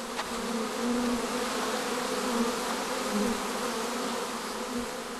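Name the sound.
honey bees buzzing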